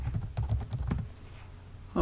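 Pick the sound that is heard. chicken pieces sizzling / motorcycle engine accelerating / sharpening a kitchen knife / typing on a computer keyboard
typing on a computer keyboard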